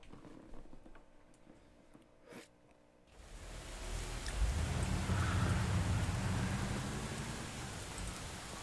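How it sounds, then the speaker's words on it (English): Steady rain in the Mafia 2 video game, a soft hiss that swells in after a quieter stretch and holds as a dense, continuous wash of falling drops. "Oh, they just dropped me off in the rain to find my way out there?"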